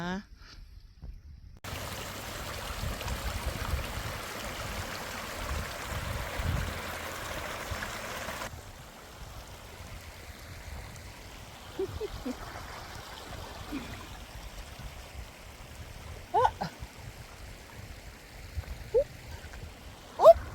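A mountain river in the Swiss Alps near Grand Saint-Bernard gives a broad, even roar for several seconds, then fades to a quieter background flow as voices talk over it.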